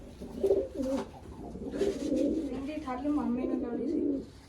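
Pigeons coo in low, throaty rolling calls, close by and fairly loud, continuing for several seconds.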